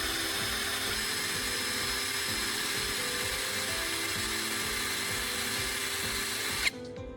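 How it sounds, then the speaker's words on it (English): Sandpaper pressed against the spinning tip of a carbon rod makes a continuous high grinding whine with a steady motor drone beneath it, then cuts off abruptly near the end. "using sandpaper pressed against the spinning tip, I'm refining it"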